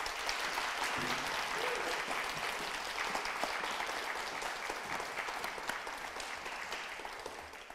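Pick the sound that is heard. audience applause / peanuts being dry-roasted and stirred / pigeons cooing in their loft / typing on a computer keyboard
audience applause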